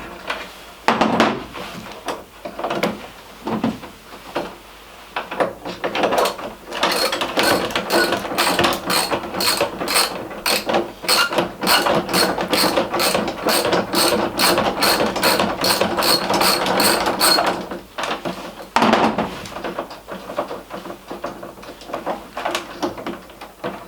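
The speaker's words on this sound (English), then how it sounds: "we're going to get our 10mm socket and ratchet and undo that 10mm nut there next to the actuator" A socket ratchet undoes a 10mm nut beside the actuator on an Aeroklas hardtop canopy, first in short bursts, then in a long run of rapid, evenly spaced clicking close up before slowing to a few final turns.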